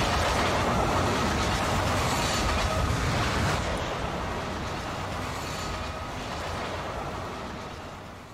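A train in the video game Oddworld: Soulstorm gives a loud, dense, continuous rumble and rattle that holds steady and then slowly fades toward the end, with no voices.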